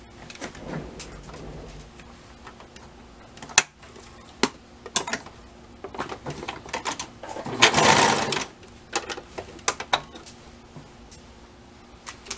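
A sewing machine stitching elastic onto the leg openings of an adult swimsuit, with short bursts of mechanical whirring and clicking, a longer steady run in the middle, and handling noises between the bursts.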